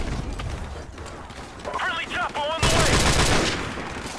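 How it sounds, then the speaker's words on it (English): Burst gunfire in Call of Duty 4: Modern Warfare Remastered crackles under ongoing talk, turning into a loud, dense run of rapid shots for the final second and a half. "So instead of 3 bullet bursts, it'll be like a 6 bullet burst."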